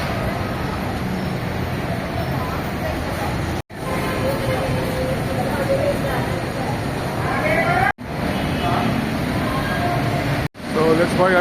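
Busy MRT metro station ambience in Manila: a continuous rumble of trains and crowd noise, with people talking throughout and a few brief cutoffs.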